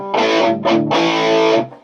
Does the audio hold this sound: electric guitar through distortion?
yes